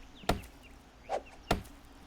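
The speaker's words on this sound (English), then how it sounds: "I bet our axe breaks before we even get through it." Axe blows strike a wooden door in the video game 7 Days to Die: three sharp, solid chopping knocks at an irregular pace, loud and close, with quiet room tone between them.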